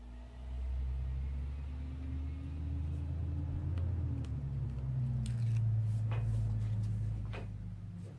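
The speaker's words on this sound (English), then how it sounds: "I heard a truck out." A truck rumbles outside after a hurricane, a low, steady engine drone at a distance that swells slightly, with a few faint ticks and clatters over it.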